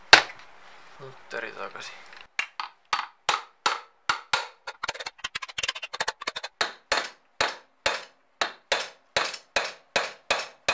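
Sledgehammer blows on Husqvarna SM/WR 125 motorcycle engine parts during an engine rebuild, a long run of sharp metallic strikes in a steady rhythm at close range, preceded by a few softer knocks and a short spoken phrase.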